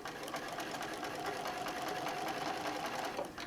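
A home sewing machine runs steadily at a fast, even whir, stitching a fabric bag near the fold, close and alone without talk.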